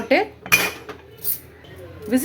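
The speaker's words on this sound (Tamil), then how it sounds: "குக்கர் மூடிக்கலாம்" Metallic clanks and scrapes of cookware: a few sharp knocks and a clink as a pressure cooker lid is handled and closed, with brief gaps between.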